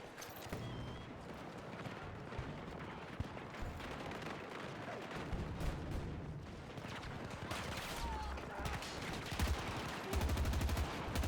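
Battlefield 2042 combat fills the scene with dense, continuous gunfire: rattling bursts and sharp cracks over a rumbling background, with a few heavier low booms toward the end.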